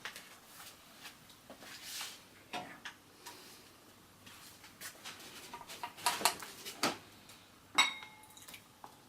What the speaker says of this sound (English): And just keep stirring all the time.